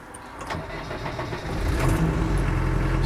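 A 1989 or 1990 Land Rover 90 hardtop with a 2.5 turbo diesel engine cranking and starting, the low rumble building and settling into a steady close idle.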